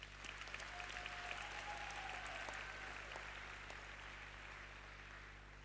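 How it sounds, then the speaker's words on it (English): Audience applause fills a graduation ceremony hall, a steady, even wash of many hands clapping that holds for several seconds and slowly eases, with a low constant hum beneath. "let's give them a round of applause"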